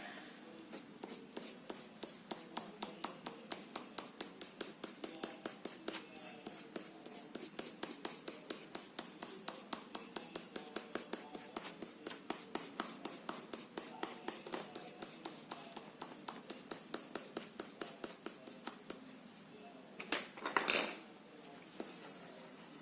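Rapid, rhythmic scratching of a watercolor pencil on paper, close and quiet, with a brief louder rustle near the end.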